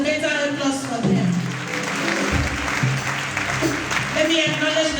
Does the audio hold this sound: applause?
yes